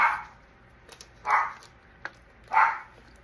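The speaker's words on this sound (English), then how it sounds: "I knew my dog would start barking." A dog barks three times at a steady pace, the sharp barks moderately loud, with a couple of faint clicks between them.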